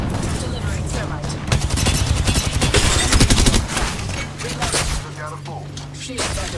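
Bursts of video game gunfire in Apex Legends, loud, ragged volleys layered over a game voice line and other talk, with intermittent shots throughout.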